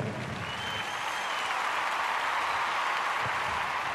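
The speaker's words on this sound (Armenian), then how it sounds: "Ծափերը, ծափերը։" Steady, dense applause from a large audience at a traditional folk dance ensemble performance, sustained at an even level throughout, with no talk above it.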